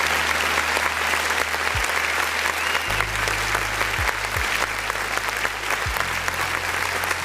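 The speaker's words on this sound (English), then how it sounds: "let's go ahead and clap for that" Audience applause during a live music review stream for underground artists, a steady wash of clapping lasting several seconds, loud and continuous, with low tonal sweeps and electronic sounds running beneath it.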